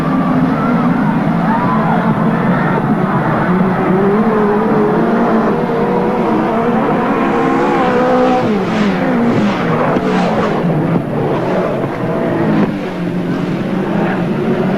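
Midget race cars at Western Springs Speedway in an international series race, engines roaring continuously as they charge into a bend, loud and sustained with shifting engine pitch and crowd or commentary noise mixed beneath.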